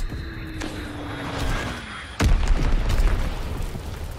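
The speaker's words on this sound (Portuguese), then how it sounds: "Bomba inimiga a caminho," An enemy bomb explodes in a shooter video game, a sudden deep booming blast midway that follows a faint whistling descent and leaves a rumbling tail, loud and close.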